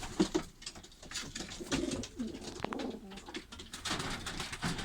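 Pigeons kept in a backyard loft give soft, repeated low coos, moderately close and mixed with rustling and light background noise throughout.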